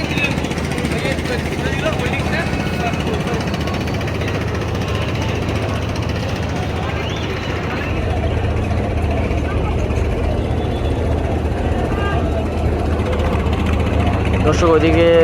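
The passenger launch MV Farhan 7 pulls away from Barisal ghat, its engine a steady, loud, continuous drone throughout while someone talks over it.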